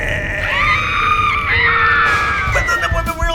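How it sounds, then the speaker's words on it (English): Loud, close, high-pitched screaming that wavers and bends in pitch, with a bleating, goat-like quality, continuing without a break. "the women are screaming."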